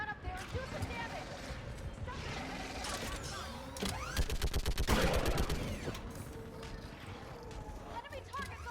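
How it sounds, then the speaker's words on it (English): A mounted gun in Mass Effect 3 fires a rapid, loud burst during a battle on Tessia, set amid chaotic combat noise with shouted voices over it. "Get on that gun up there and do some damage!"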